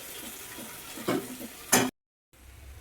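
Vegetables frying and being stirred in a pan: a soft sizzle with a few scraping stirs, the last one loud, then a short silence and a low sizzle again.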